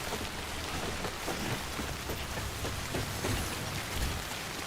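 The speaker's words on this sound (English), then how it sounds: "And it is raining hard as fuck." Heavy rain in the video game Death Stranding falls as a dense, steady hiss with faint drop patter throughout, moderately quiet and without talk.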